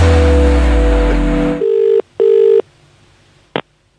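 A telephone placing a call: a short dial tone, then two steady electronic ringback tones, then a brief click, heard up close with no talking.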